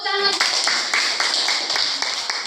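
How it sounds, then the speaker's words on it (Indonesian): A classroom of students claps hands together in a quick, fairly loud burst of rhythmic claps following a short sung or spoken tone, sounding close and lively. "Bagus, tepuk tangan."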